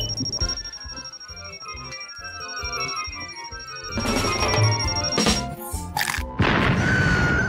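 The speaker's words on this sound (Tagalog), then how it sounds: "Isang totoong pagsabog ng tsokolate." A chocolate fountain bursts in a kitchen with a sudden splattering crash and messy thumps, followed by scattered bangs and a high electronic whine, with no talking.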